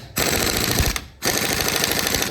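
A special tool rattles rapidly while tightening a bolt on a Honda CB Shine 125cc motorcycle engine, two loud buzzing bursts of impacts separated by a short pause, no talking.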